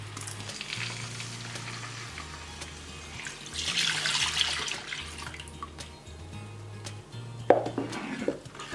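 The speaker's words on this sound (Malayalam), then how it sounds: "ഇനി ബാക്കിയുള്ള പാലും കൂടി നമുക്ക് ഒഴിക്കാം" Milk pours into hot caramel syrup in a pan for caramel broken-wheat payasam, setting off a loud, hissing, bubbling sizzle that rises and surges in the middle, with a sharp spattering burst near the end.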